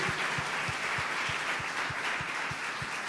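A church congregation applauds, a dense, even wash of clapping sustained throughout with a faint low rhythmic thump beneath it.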